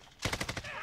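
A short rapid burst of about five gunshots from an LMG in Call of Duty Modern Warfare, punchy and close, followed by a brief ringing tail.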